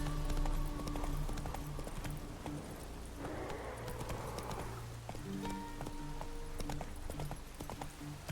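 Horse hooves clip-clopping while riding in the video game The Witcher 3, a steady trotting patter under continuous game ambience, rain-like noise and music.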